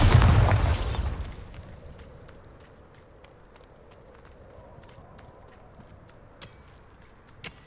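A Bombarda spell detonates in Hogwarts Legacy, opening with a loud, close blast that fades into a low rumble, followed by faint scattered ticks and clicks.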